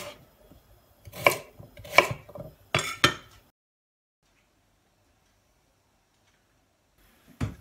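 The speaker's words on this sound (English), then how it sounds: "we're going to peel and dice, and we've got 500 grams of potato as well" Potatoes being peeled and diced: several sharp knife chops strike a board in quick bursts, close and fairly loud, followed by a long silence and one more cut at the end.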